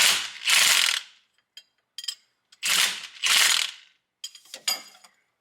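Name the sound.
ratchet tightening nylon lock nut on Corvette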